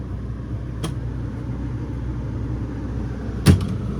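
An air conditioner runs inside a 2021 Sunseeker 3250DSLE Class C motorhome, a steady low hum and airy whoosh throughout, broken by two sharp clicks, the second slightly louder.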